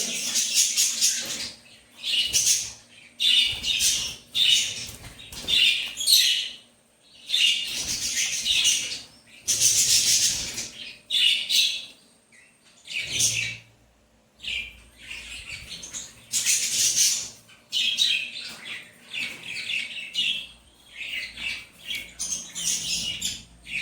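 Young birds tucked inside a pot give loud, harsh squawking calls in repeated bursts of a second or two, separated by short silences, close by and with no voices.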